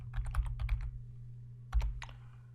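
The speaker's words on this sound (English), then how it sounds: "And I can type in names and units and so on." Keys clatter on a computer keyboard as someone enters names and units into a data analysis program, a quick burst of taps, then a pause and a few more strokes.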